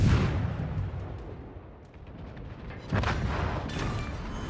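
Naval guns fire in World of Warships amid a destroyer battle, deep rumbling booms and blasts layered over continuous roaring battle ambience, with a strong salvo near the start and another around the middle.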